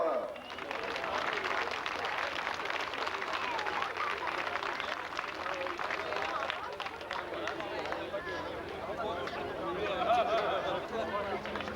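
Spectators at a tractor pulling event in France applaud a driver, sustained clapping mixed with crowd chatter and some nearby talk throughout.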